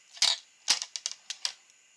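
A small piece of gold-coloured chain is snipped, giving a quick series of about six sharp, close metallic clicks and snaps spread over two seconds, the first ones loudest, with no talking.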